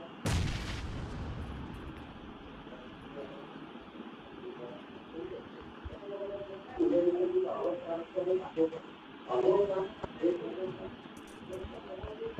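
Bomb blasts in BGMI gameplay, one heavy boom at the start followed by rumbling battle noise and further distant thuds, heard under a player talking excitedly.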